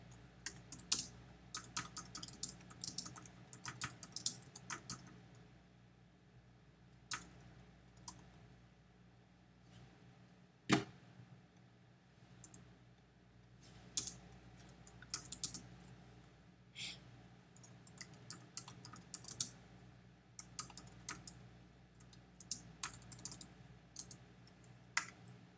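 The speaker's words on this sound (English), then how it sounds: "I gotta do better with my typing" Quiet, close typing on a computer keyboard, with irregular bursts of key clicks and brief pauses, alongside low steady background hum and occasional louder taps, with no talk.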